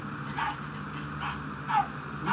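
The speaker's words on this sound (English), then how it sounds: "this fucking dog stop barking" A dog barks and yips indoors, heard as a few short, moderately faint calls spread unevenly, with no talking during them.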